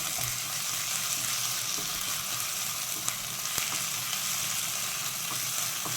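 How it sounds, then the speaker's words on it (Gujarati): Spices tempering in hot oil for a potato vada filling, a loud continuous crackling sizzle with scattered pops throughout, no talking. "આવી રીતે તમે વઘાર કરશો ને પછી એમાં એડ કરશો"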